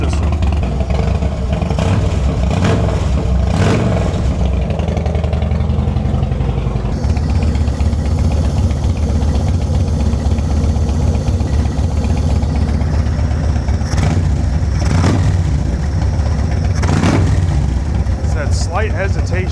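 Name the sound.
carburetor engine running and dropping out slightly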